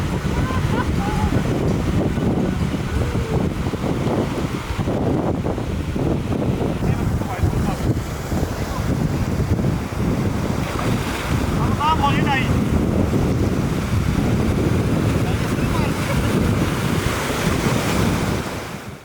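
Sea waves rolling onto Ormara beach in Balochistan, Pakistan, a loud continuous roar of surf with heavy wind buffeting the microphone, sustained throughout with faint voices under it.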